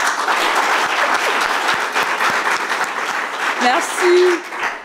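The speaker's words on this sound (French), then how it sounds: "Applaudissez pour vous-même." A conference audience claps for itself, sustained crowd applause filling the room at a steady level, with a few murmured voices and a brief tonal whistle or cheer near the end.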